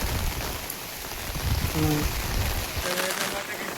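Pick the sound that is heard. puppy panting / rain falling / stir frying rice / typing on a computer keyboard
rain falling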